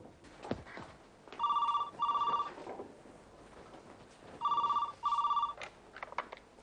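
A telephone rings in two double bursts, a clear trilling bell with a short pause between pairs, in an otherwise quiet room.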